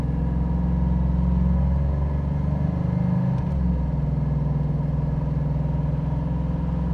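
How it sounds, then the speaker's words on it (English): A 1988 Chevrolet Monte Carlo SS drives along with a steady, close engine drone and road hum, and a brief change in pitch midway suggests the transmission shifting. "I don't know if you could hear that in the video, but the transmission shifts nicely."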